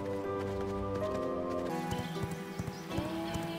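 Horse hooves clip-clop in the V Rising video game, a run of quick rhythmic hoofbeats over a sustained musical drone, with a brief whinny-like tone near the end.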